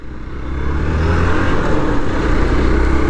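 A car engine running steadily in first gear, with a refined, vibration-free sound; a loud, continuous low engine drone with rising intensity and no talk over it.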